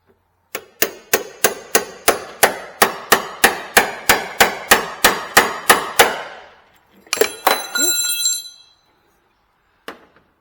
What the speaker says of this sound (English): what's a job like this without doing some hammering?